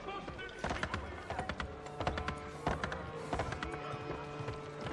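A horse walks at an easy pace in Assassin's Creed 3, its hooves clopping in a steady, uneven rhythm close by over a continuous game backdrop, with a person talking at times.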